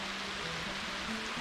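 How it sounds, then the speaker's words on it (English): Heavy rain pouring down during a fishing trip in Georgia, a dense, steady wash of hiss filling the short stretch, loud and even with no talk. "Now the rain's really picking up."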